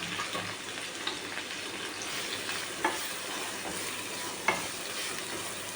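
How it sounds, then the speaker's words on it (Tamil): Two large chopped onions and curry leaves sizzle steadily in a hot pan for a cabbage fry, with a continuous frying hiss and a few soft stirring scrapes and clinks, close up and without talk. "இந்த வெங்காயம் நல்லா வதங்கட்டும், பார்க்கலாம்"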